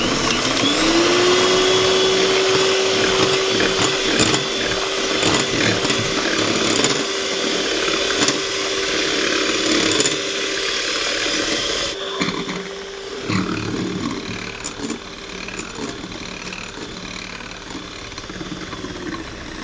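An electric mixer whirs steadily as sugar is beaten into coconut cake batter, a loud continuous motor drone with a sustained tone throughout, the pitch dipping slightly partway through, with no talking.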